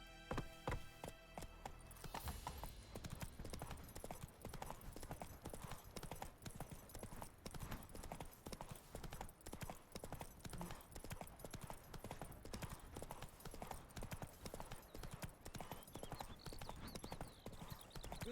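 Horse hooves gallop in The Witcher 3, a steady rapid clip-clop rhythm that carries on throughout against faint background sounds, with a brief voice at the start.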